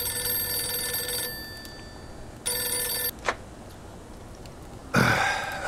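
A telephone rings in the video game Mafia II. Three bright electric rings come in separate bursts with pauses between them, clear and fairly close, alone in a quiet room, with a short thump before the last ring.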